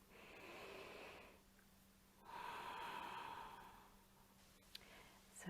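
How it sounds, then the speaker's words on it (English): Slow, relaxed breaths during a yoga session: a long soft exhale, a pause, then another drawn-out airy breath, close and quiet with no speech. "this is a good time for you to relax the breath now"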